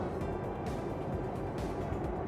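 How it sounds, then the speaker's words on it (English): Inside a Porsche Taycan at about 91 km/h, sporty tyres send a steady broadband roar of road noise through the cabin, continuous and fairly loud, with no voices. "a lot of road noise from the tyres, because they are very sporty."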